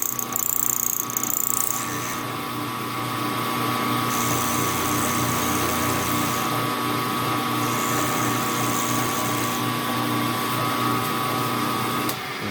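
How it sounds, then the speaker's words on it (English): A 3-flute 3/8 inch end mill cuts metal at 1700 RPM during a small lathe build, giving a steady, close, high-pitched machining whine with a constant motor hum beneath and no talking. "I got a 3-flute 3/8 end mill, running 1700 RPM."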